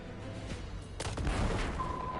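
Exploding barrels and gunfire in the Destiny 2 video game: a sharp blast followed by rumbling crackle, with distant shots and a steady electronic tone near the end.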